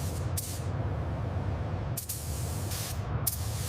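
Light gray primer sprayed from a can or gun onto the carbon fiber body panels of a burnt Ferrari LaFerrari, a steady close hiss broken by a few sharp bursts as the spray restarts.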